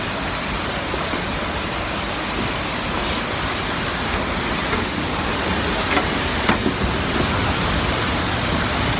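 A waterfall on an outing makes a dense, constant roar of rushing water, loud and close, with only faint small sounds above it.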